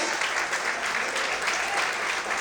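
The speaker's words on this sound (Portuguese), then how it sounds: "Você pode aplaudir o Senhor em forte." A church congregation applauds during a worship service, a thick, even wash of clapping from many hands that continues without a break.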